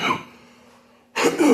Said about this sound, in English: so excuse the goddamn coughing